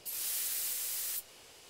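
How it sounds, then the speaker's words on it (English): A sprayer releases a sleeping drug at a bee hive in the horror game Death Mark: one steady, loud hiss lasting about a second, then it cuts off sharply, leaving quiet background. "I take careful aim and spray the drug."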